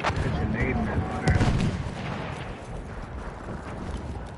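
A grenade explodes in a multiplayer shooter video game, followed by muffled bursts of gunfire in a dense, noisy battle mix. The blast is loud near the start and the firing fades afterward, with players talking over it.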